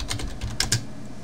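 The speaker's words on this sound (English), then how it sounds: "You just hit buy and start typing." Computer keyboard typing during a Runescape session, a quick burst of about five or six close key clicks with slightly irregular spacing, and no one talking.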